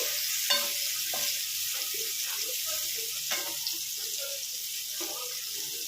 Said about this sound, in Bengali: দিয়ে একটু ভাজা ভাজা করে নিচ্ছি রসুন আর পেঁয়াজটাকে